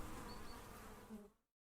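Bees buzzing close by in a dramatized scene about dying bees, a dense, continuous drone that stops abruptly after about a second and a half.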